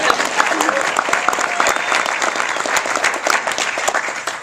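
An audience at a mentor rally applauds loudly and continuously, a dense wash of many hands clapping close by with no talk over it.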